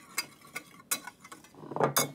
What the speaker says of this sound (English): I'll just give this a bit of a whisk just to mix it all together